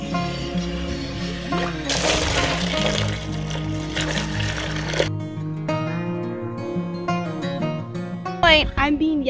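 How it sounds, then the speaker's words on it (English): Water is poured to soak alfalfa feed, a broad rushing splash for a few seconds, with loud tonal calls sounding over it and continuing after the pour stops. "So let's go soak it in water."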